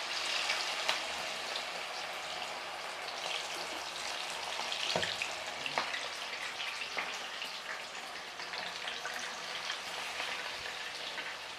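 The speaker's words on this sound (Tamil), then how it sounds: "சிம்மில் வச்சுட்டு அதுக்கப்புறமா நம்ம லெக் பீஸ் போட ஆரம்பிக்கலாம்." Chicken leg pieces deep fry in a large pot of oil, giving a steady crackling sizzle like rain throughout. A few sharper pops and taps cut through it.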